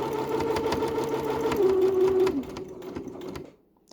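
Sewing machine stitching fabric for beginner wipes up to a marked point, a close rapid mechanical whirr with quick needle ticking that slows and stops, followed by near silence.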